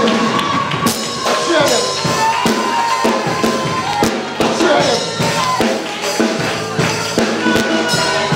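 Church congregation cheering and whooping at a baptism, loud, dense shouts and yells from a crowd with sharp bursts throughout, mixed with speech.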